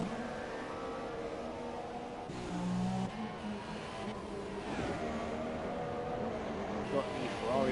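Formula 1 cars racing in the F1 2017 game around the Monaco street circuit, a steady high engine whine with passing and shifting engine tones, under continuous commentary.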